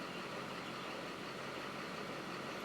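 A diesel vehicle idles roughly while in drive, a steady, fairly faint engine rumble recorded near an open window with no talk.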